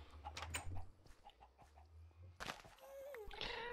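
Video game chickens cluck in short bursts over a low steady game hum, with a brief sharper squawk near the end.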